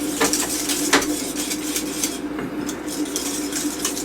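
A hand whisk scrapes and knocks continuously through thick, simmering cornmeal porridge in a cooking pot, with steady metallic clatter and stirring close by.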